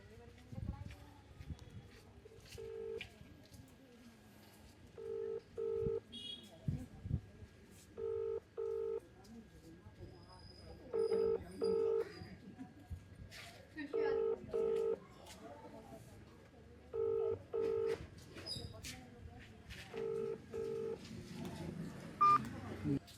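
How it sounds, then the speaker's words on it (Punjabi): A run of telephone keypad tones beeps in short paired bursts, repeated steadily across the stretch, with faint background noise and a voice underneath. "ਇੱਕ ਵਾਰੀ ਦੁਬਾਰਾ ਉਹਨਾਂ ਨੂੰ ਫੋਨ ਲਾ ਕੇ ਦੇਖਾਂਗੇ"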